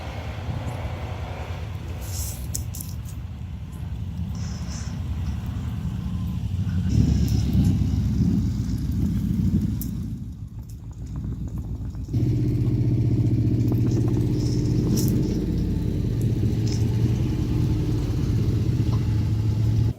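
A plow truck engine runs steadily in a snowy driveway during a blizzard, a continuous low rumble that dips briefly midway and then returns with a stronger, even drone.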